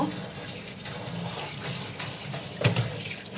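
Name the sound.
washing sliced ash gourd in water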